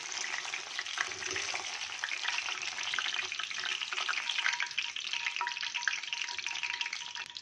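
Bhajiya fritters in hot oil give a loud, dense, steady sizzle with constant crackling bubbles, close up and alone for the whole stretch.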